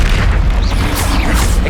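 A Confringo explosive spell blast from the Hogwarts Legacy wizard video game booms continuously with deep rumbling and crackling bursts layered over it, loud and dense throughout.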